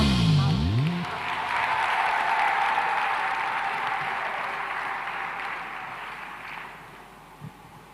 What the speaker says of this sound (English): One more time, a big round of applause for Jackson Panduka tafadhali.